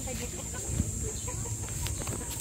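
Chickens cluck faintly on a small backyard mini farm, soft intermittent calls over a steady low rumble of outdoor background noise, with no one talking.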